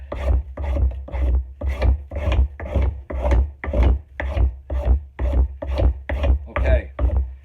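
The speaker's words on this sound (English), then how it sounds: "I still have a little bit too much wood at the front, so I'm just going to trim that off and round it out." A wood rasp trims and rounds the front of a boy's axe handle, about fourteen loud, close, rhythmic scraping strokes in an even back-and-forth cadence with no talk.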